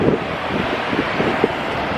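Gusty wind blowing straight into the microphone at a truck show, a loud, steady rumbling buffet with occasional thumps and no speech.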